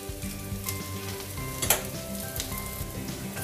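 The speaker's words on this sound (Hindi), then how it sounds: "अब हम इसके चारों तरफ थोड़ा सा ऑयल डालेंगे। और थोड़ा सा ऑयल इसके ऊपर भी डालेंगे।" A flour chilla sizzling in oil on a pan, a steady close crackling hiss running throughout with one brief louder spatter midway, no voices.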